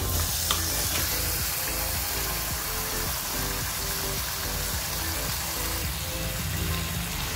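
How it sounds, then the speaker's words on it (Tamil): Marinated chicken sizzles loudly in masala in a pan, with a dense, continuous frying hiss and steady stirring beneath it, close up and without voices. "ஃப்ரெண்ட்ஸ் சிக்கன் போட்டுட்டு நல்லா மிக்ஸ் பண்ணி விடுங்க"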